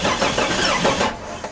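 A Jeep engine cranks over without catching while a crank position sensor and spark are being diagnosed, giving a steady, loud, close churning of the starter and engine that stops abruptly near the end.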